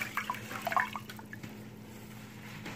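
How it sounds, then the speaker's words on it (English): Rice being rinsed in water gives faint trickling and small sloshing splashes near the start, then fades to quiet, soft dribbling over a low background hum, with no talking. "Just got done rinsing my rice"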